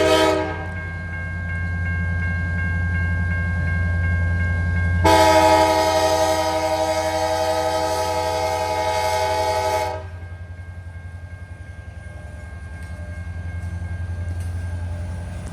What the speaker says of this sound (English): Paducah and Louisville Railway 2012 University of Kentucky locomotive as it pulls the WW1 loaded coal train north at West Yards in Madisonville